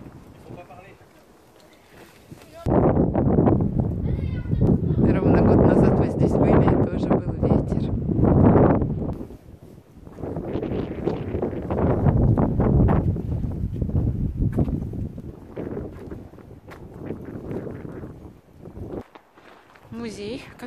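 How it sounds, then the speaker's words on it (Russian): Strong wind in the open air in Provence buffets the microphone in loud, sustained roaring gusts that ease briefly midway and then return. "И начинается ветер."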